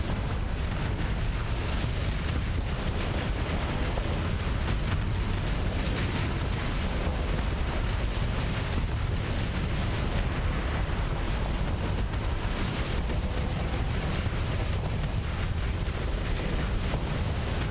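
Ion cannons fire on a space station in the Starsector game, a constant, dense barrage of booming blasts and crackling bursts that stays loud and unbroken throughout.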